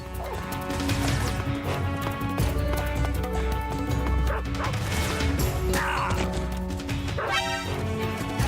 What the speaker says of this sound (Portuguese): Maldito cachorro.